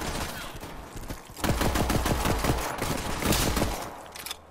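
Shotgun fire in Borderlands 3, a rapid run of loud repeated blasts over a second or two, set against busy game combat noise.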